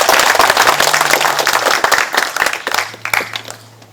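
Applause from an audience at a Gyeongbuk forum on the 2.28 democracy movement, welcoming the provincial governor to give congratulatory remarks; scattered hand claps, moderately loud, thinning and fading toward the end.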